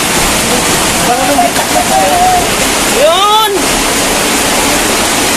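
Floodwater pours into a countryside house as a river-like flood, a loud continuous rushing roar that never lets up, with a voice calling out briefly over the torrent.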